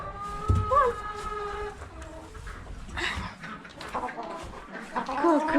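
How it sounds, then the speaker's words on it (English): Farm chickens clucking at feeding time, a series of short, fairly soft clucks scattered over several seconds amid quiet barnyard background noise. "Come on, chicken. Come on."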